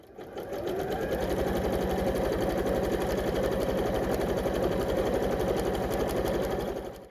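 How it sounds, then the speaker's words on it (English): A sewing machine stitches fabric steadily for several seconds, its rapid mechanical stitching rhythm close and even, starting and stopping cleanly. "I'm going to take this back to the sewing machine and I'm going to stitch all the way around"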